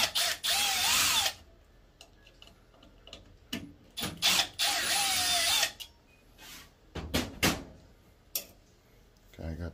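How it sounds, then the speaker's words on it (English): A power drill unscrews fixings from an LG washing machine in several short whirring bursts, close and fairly loud, separated by clicks and handling noises. "So I'm going to take those screws out."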